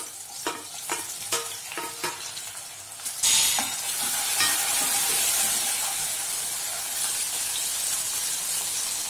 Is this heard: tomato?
yes